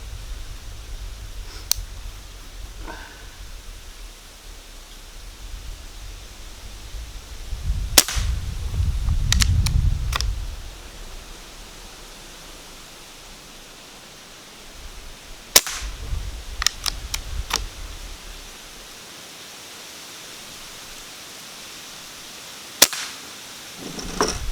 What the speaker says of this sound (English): We'll try 3 rounds on the bottom right one